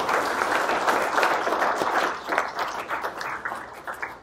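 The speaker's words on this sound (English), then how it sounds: "So I'll give a nice round of applause." A fire department audience applauds steadily at a talk about a mill fire, a dense wash of clapping that holds even for two seconds, then thins into looser, uneven claps.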